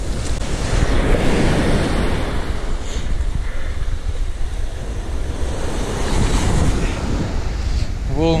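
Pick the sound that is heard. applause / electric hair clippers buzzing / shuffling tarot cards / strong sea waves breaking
strong sea waves breaking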